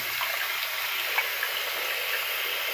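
Water running steadily over a sharpening stone as it is rinsed, a soft continuous trickle and splash at close range with no talk.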